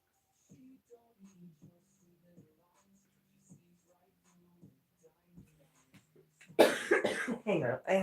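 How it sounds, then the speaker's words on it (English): A person with a tickle in the throat coughs. Faint, scattered small sounds give way to a loud burst of close, harsh coughing near the end. "Hang on, I have to cough some more."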